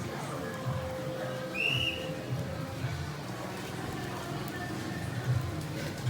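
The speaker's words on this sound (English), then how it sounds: "We got people blowing the whistle now." A whistle blown by officials enforcing a night curfew on the streets during the Luzon enhanced community quarantine: one short, shrill blast over steady outdoor background noise.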